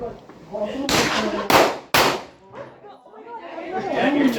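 Gunfire at an outdoor ladies' shooting range with a steel pin target: two sharp, loud shots about half a second apart, with a clang of hits, over a background of quiet talking.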